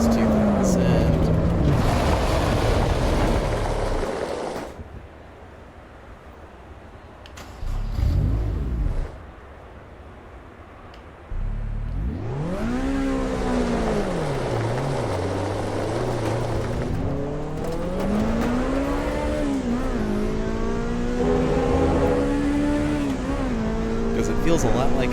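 A car engine in the Assetto Corsa Evo racing game revs up and down through gear changes, rising and falling in pitch, with a short quieter lull midway; someone talks over it throughout.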